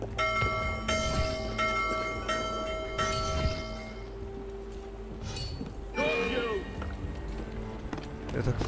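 Bell ringing inside the game Assassin's Creed Unity, a series of struck, sustained tolls with ringing overtones over the first few seconds amid game ambience and noise, followed by a voice talking.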